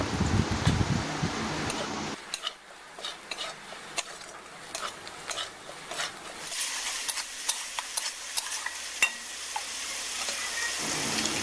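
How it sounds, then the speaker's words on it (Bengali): Chili and turmeric powder fry in oil for a shrimp and taro-leaf curry: a strong sizzle opens, then drops to a quieter hiss with scattered spoon scrapes and clinks against the pan, close by. "এবার দিয়ে দেব লঙ্কার গুঁড়ো, হলুদ গুঁড়ো দিয়ে কিছুক্ষণ ভেজে নেব।"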